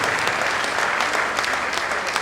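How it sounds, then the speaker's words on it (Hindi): An audience at a Hindi poetry gathering applauds a poet, a loud, dense wash of many hands clapping continuously and evenly, with no voices standing out. "मैं चाहता हूं सुदीप भोला के लिए एक बार तालियां बजाएं"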